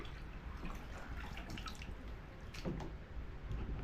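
Water pours and drips while a baby is washed, a quiet steady trickle with a few brighter splashes near the middle and no talking.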